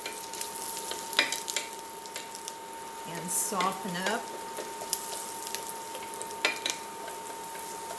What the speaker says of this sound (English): Put it in here around the edges where the most of the fat is, so it can sizzle a little bit.